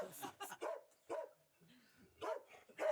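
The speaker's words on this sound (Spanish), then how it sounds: "Cuidado que se nos pasa ese perro para acá" A dog barks several times in short bursts outdoors along the canals south of Mexico City, with some background voices mixed in.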